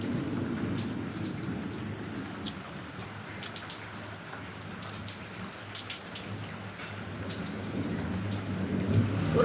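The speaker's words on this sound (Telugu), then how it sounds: "బయట వర్షం పడతా ఉంది చూడండి" Steady rain falls outside in a village, a dense, even patter of drops on surfaces that holds for the whole stretch with no voices, swelling slightly louder toward the end.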